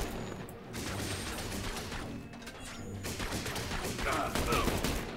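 Gunfire from a mounted turret in the third-person shooter The Bureau, a dense, continuous clatter of shots and impacts that holds steady and builds slightly toward the end, with no one talking over it.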